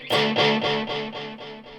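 Electric guitar played through a coolmusic Echolation delay pedal into an Orange TH30 amp: one struck distorted chord followed by a string of rhythmic delay repeats that fade gradually, heard alone.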